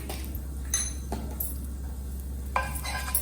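A spoon stirs cumin seeds and asafoetida in a pan on a tawa, making a few sharp clinks and scrapes against the metal over a faint, steady sizzle and a low hum.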